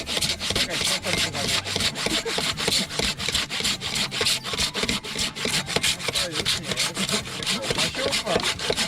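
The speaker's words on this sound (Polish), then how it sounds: "rżnij na pół metra, to od razu na chatę zabiorę" A hand saw cuts through wood in quick, steady back-and-forth strokes, loud and close, rasping without pause for the whole stretch.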